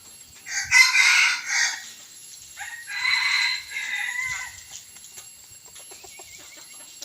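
Young crossbred fighting-breed roosters crow a few times, the calls slightly strained and uneven, nearby, with faint clucking and outdoor background between them.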